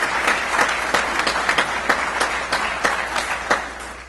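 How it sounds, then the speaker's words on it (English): Applause from the audience at a Saginaw, Michigan police department awards ceremony, loud and steady, with a few sharper individual claps standing out from the crowd. "If you give her a round of applause."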